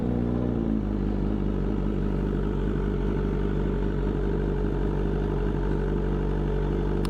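Motorcycle engine with 80,000 miles on it, running steadily and loud throughout. A deep, continuous drone revs slightly at the start, then holds an even clattering hum while the bike is ridden, with no talking.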